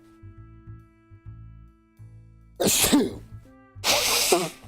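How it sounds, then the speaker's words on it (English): Two sharp, loud sneezes, one after the other, breaking a quiet stretch with a low hum underneath. "I don't even know why I'm sneezing so much."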